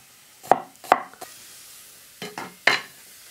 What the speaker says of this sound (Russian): Тыковку я отправляю в сковородку, вернее, в кастрюльку, которая является у нас сковородкой. Пусть она обжаривается.